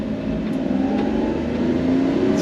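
A tuned 1993 Mitsubishi Minicab kei truck with a 4-speed gearbox accelerating on the road, its small engine droning steadily and loudly from inside the cab as the revs climb slightly.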